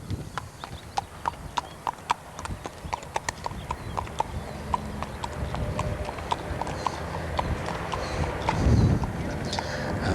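Hooves of a ridden horse in side pull and curb bit hardware clip-clop in a steady walking rhythm, sharp and close, with low rumbling and a muffled voice underneath toward the end.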